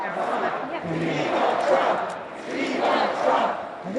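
Crowd at a Trump political rally singing a song together, then shifting into rhythmic chanting, a loud massed sound of many voices that swells and dips in waves.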